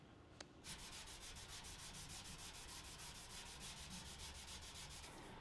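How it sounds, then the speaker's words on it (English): Clear coat on a car is hand sanded with rapid, even back-and-forth rubbing strokes, close and steady for about five seconds after a brief pause, with no voices. "I'm just going to go letter by letter and sand them out."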